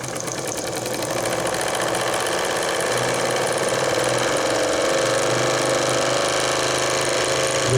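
A 3 cc live steam engine in a model steamboat runs steadily with a continuous dense mechanical chatter and hiss, close and fairly loud, holding even throughout with no talk over it.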